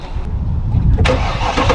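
A stock V8 engine in a classic car cranks briefly and catches, then settles into a deep, steady, close-up rumbling idle.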